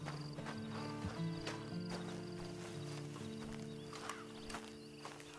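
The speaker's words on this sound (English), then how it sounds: "Then you better get on this horse." Horse hooves clip-clop in Red Dead Online, a steady walking rhythm of hoofbeats heard over a sustained low musical drone, with an occasional whinny-like tone and no talk.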